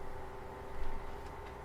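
Steady, fairly quiet whir of NZXT Cryo V60 laptop cooler fans running at full speed, a constant airy hum with a faint tonal drone.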